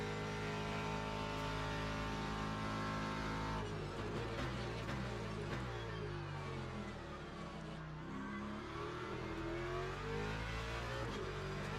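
Race car engines in Le Mans Ultimate drone loudly and continuously, including BMWs, with a high whining tone that shifts pitch through gear changes and rises and falls as cars close in and pass alongside.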